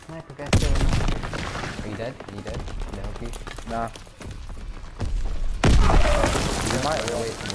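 Grenade explosion and heavy gunfire in the Call of Duty WW2 private beta multiplayer, loud bursts and booms recurring throughout, with players talking over the battle.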